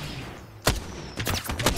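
Apex Legends gunfire: after a quiet moment, one sharp loud shot cracks out, then a rapid cluster of close bursts follows in quick succession.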